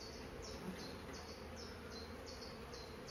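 Angry honeybee swarm being moved to a full-size hive, a faint, steady buzzing hum with higher chirp-like tones pulsing at intervals, heard alone and without voices.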